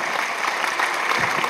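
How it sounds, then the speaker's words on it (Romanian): A concert audience in Moldova claps steadily after an orchestra's performance: dense, continuous applause from a crowd, fairly loud, with no break. "Aplauze!"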